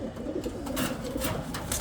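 Giribaz pigeons on a rooftop give a short burst of low cooing, dense and close, over a steady noisy background.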